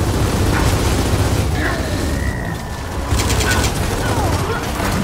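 Sustained gunfire from Gears of War 4 rattles steadily throughout, a dense continuous barrage with muffled explosive rumble underneath.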